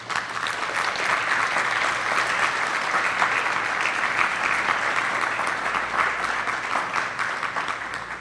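A crowd at a wedding anniversary celebration applauds steadily, dense clapping that stays loud and even from start to finish.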